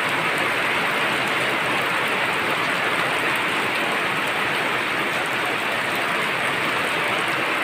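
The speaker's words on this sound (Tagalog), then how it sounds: "Ang lakas talaga sa ulan guys." Heavy rain pours down in a dense, unbroken hiss that stays loud and even from start to finish, with no voices over it.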